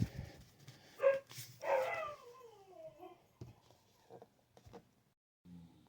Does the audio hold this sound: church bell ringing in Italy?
no